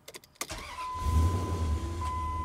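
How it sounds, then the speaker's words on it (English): A 2022 Ram 1500 pickup with an ignition fault: a few quick clicks, then a brief starter crank, and the engine catches into a steady low idle that runs on with a faint high whine. "car starts, starter disengages, engine runs"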